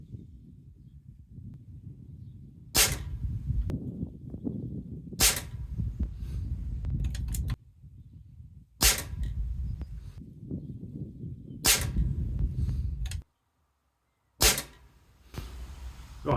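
Air Arms XTi50 field target air rifle firing outdoors in wind, five sharp separate shots spaced a few seconds apart over steady wind noise.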